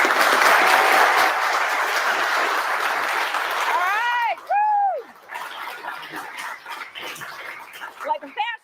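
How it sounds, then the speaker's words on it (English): Live audience applause for the judges at a California pizza bake-off contest, loud at first then fading as a voice breaks in with sliding tones and talk over the remaining clapping. "Let's have a nice round of applause for Tony Gemignani, Glenn Cebulski, and our 2021 Real California Pizza Champion,"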